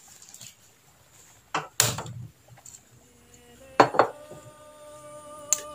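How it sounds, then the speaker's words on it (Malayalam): A small metal pan set on a kitchen stove: a few sharp clanks and knocks of metal with a ringing tail between quiet gaps, close by, no speech. "ഞാനിപ്പോൾ ഒരു ചെറിയൊരു കുട്ടി പാൻ വെച്ചിട്ടുണ്ട്."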